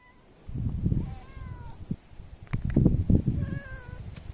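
A cat meows up close, giving a couple of drawn-out, wavering cries, then a second louder burst of meows with some shuffling noise around them. No one speaks.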